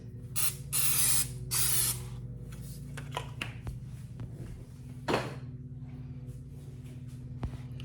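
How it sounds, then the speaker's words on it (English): Two hissing bursts of cooking spray onto baking pans for zucchini bread, then a third burst after some clattering handling of pans, over a steady low hum. "So I'm going to spray my 2 pans."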